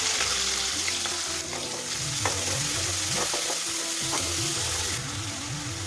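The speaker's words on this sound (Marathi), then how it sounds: "कांदा चांगला मऊ होईपर्यंत परतून घ्यायचा" Onion frying in hot oil with cumin seeds and green chillies, a loud, dense, continuous sizzle close up, with a spoon scraping and stirring through the pan.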